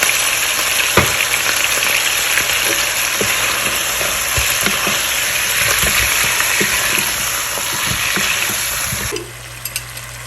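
Green chillies frying in a pan of oil for a white korma, a loud, continuous sizzle with repeated stirring clatters and scrapes, and the hiss drops sharply near the end.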